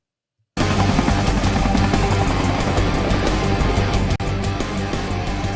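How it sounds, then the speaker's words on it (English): A fleet of helicopters flies past with a loud, steady rotor roar that fills the scene from start to finish, dipping only briefly near the end, with no voices. "There's just as many helicopters in this as a shot of Vietnam."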